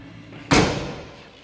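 A 1986 Buick Regal T-Type's door swings shut with a single solid, close thump, its body ringing briefly and fading out, with no voices over it.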